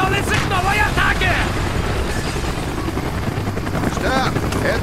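Helicopter in the Call of Duty: Black Ops Vietnam campaign, a loud steady rotor drone with a throbbing low rumble that persists throughout, mixed with shouted voices and battle noise.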